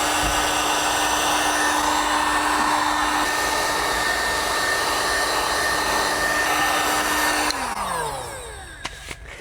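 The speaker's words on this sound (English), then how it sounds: "we're just gonna post heat them real quick" A heat gun post-heats vinyl wrap on the front door skins of a 2019–2025 Toyota RAV4, giving a steady, loud blowing whir with a faint tonal hum that shifts and fades near the end.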